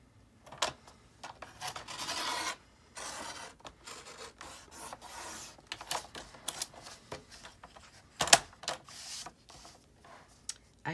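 Scissors or a blade cutting through two layers of paper at once for handmade library cards and envelopes, a series of close, dry rasping snips and rustles in uneven bursts, with a brief sharp click partway through.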